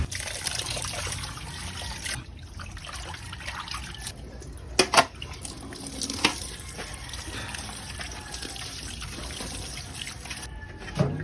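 Water trickles and drips in a sink while kimchi vegetables are rinsed and squeezed by hand, a steady soft wet patter with a few louder splashes and squeezes, no voices.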